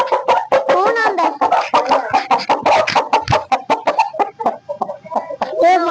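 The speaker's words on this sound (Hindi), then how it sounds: "हमारा मुर्गा" Backyard chickens, a pet rooster among them, clucking in steady short bursts close by, mixed with busy bird chatter throughout.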